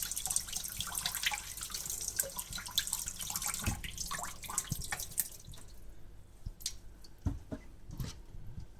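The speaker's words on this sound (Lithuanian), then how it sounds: "Dabar daržovę nuplausim su LCD muilu." Running tap water while a vegetable is rinsed with soap, a splashing, dripping stream that is steady and close at first, then thins into scattered drips and squishy handling sounds with no talk.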